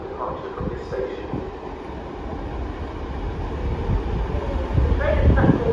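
A train rumbles at York station, a broad steady roar that gradually swells louder toward the end, with no voices over it.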